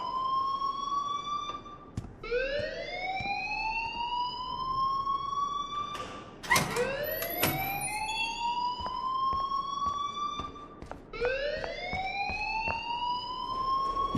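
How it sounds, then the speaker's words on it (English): A fire alarm wails in the video game Life is Strange, repeating rising siren sweeps that loop several times, loud and continuous, with sharp clicks between cycles. "please turn off that alarm since that's your job"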